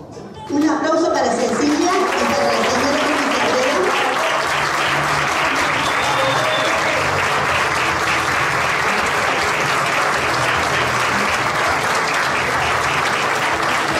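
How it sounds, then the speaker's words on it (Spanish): Sustained, loud applause from a concert audience at a classical music event, dense clapping that swells in and continues steadily throughout. "Muchas gracias, un aplauso."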